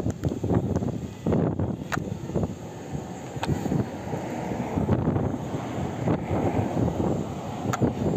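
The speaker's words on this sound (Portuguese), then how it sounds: "isso que é teste de vento" Heavy wind buffeting the microphone, a steady low rumble with gusty surges throughout, no talking.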